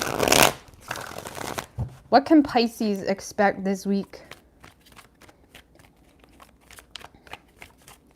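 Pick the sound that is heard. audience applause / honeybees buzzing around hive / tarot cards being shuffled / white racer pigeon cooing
tarot cards being shuffled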